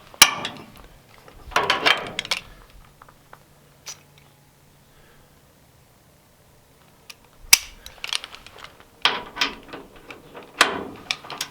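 A torque wrench tightens tow hitch bolts on a 2013 Chevy Silverado in a small shop. Close, sharp ratcheting clicks come in several bursts, separated by a long quiet stretch in the middle.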